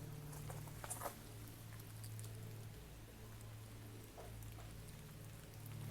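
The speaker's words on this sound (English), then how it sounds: "It's raining, so mystical." Steady rain falls outdoors along a walking route by a cemetery, a faint continuous patter with a few sharper drops and no voices.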